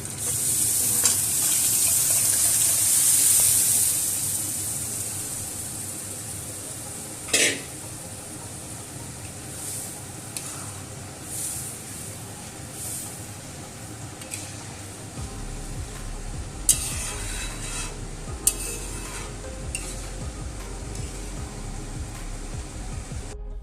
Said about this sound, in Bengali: এবারে আমি এর মধ্যে ডালটা ঢেলে দিচ্ছি।